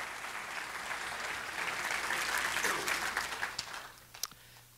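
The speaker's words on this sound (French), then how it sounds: "Est-ce qu'on peut l'applaudir pour détendre un peu l'atmosphère?" An audience applauds at a gathering in Moldova, a dense, sustained clapping that swells and then fades out over a few seconds, ending with scattered final claps.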